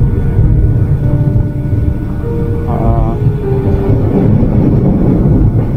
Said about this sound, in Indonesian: Lagi naik kereta, bentar lagi pulang.